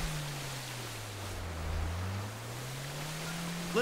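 A speedboat in GTA 5 bounces over ocean waves, its engine drone rising and dipping in pitch beneath a soft wash of water and wind, fairly quiet throughout.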